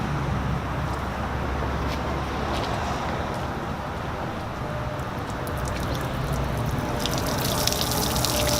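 Water from a garden hose rushes steadily into flush earmuffs fitted on an outboard boat engine, a continuous broadband hiss and gurgle at close range with no talk over it.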